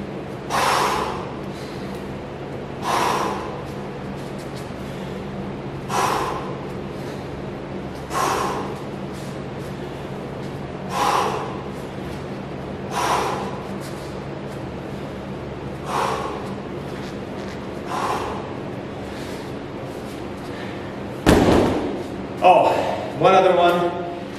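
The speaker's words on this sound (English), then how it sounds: "breathing in." Heavy, rhythmic breaths during a reverse lunge exercise, about nine evenly spaced, forceful exhales at roughly two-and-a-half-second intervals, ending in a few louder, quicker huffs close to the mic.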